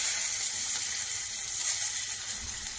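Garlic, then onion, sizzling in hot oil in a pan, a continuous bright hiss that stays even and fairly loud throughout, with no voices.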